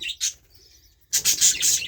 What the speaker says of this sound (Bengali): পাখিগুলো নিয়ে এসেছি ওদের ঘরে